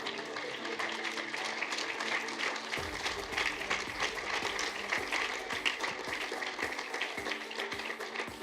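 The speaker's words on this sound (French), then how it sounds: "Ils sont tous là, on les applaudit." Sustained audience applause at a chemical industry event on responsible purchasing, honouring the participating companies, with individual claps standing out from a steady crowd wash, close and even for several seconds.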